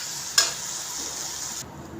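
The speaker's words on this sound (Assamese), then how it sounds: "এতিয়া এনেকৈ অলপ ভাঙি পেলাই মই এইখিনিৰ লগতে ভালকৈ ভাজিম" Fried potatoes being broken up and stirred in a pan for gravy, giving a soft steady sizzle with one sharp utensil knock near the start, close and without talk.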